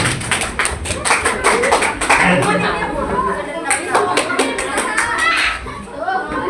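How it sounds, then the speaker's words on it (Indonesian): Students applaud in a classroom with quick, uneven hand claps that continue steadily throughout, mixed with children's chatter. "tepuk tangan untuk kalian semua"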